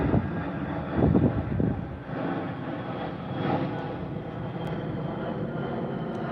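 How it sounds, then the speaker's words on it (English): An Aer Lingus airliner taking off from Heathrow runway 09L in the evening gives a steady, moderately distant jet roar with a brief louder gust near the start, with no voices over it. "This is Aer Lingus, probably from Dublin"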